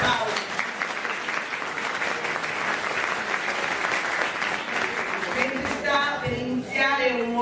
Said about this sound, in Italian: Mentre un applauso